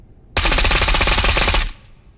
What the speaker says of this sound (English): So I'm gonna have to break out the M240.